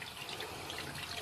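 Water runs steadily from a tap, a faint continuous splashing stream with no voices.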